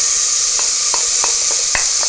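Finely chopped onion, carrot and parsley stems sizzle in a little vegetable oil in a pot for fish stock, a steady close frying hiss broken by several sharp spoon-stirring scrapes at irregular intervals.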